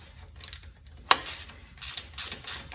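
A ratchet wrench backing bolts off a fire-damaged Suzuki Katana motorcycle engine, quick bursts of close metallic clicking with brief pauses and one sharp clank partway through.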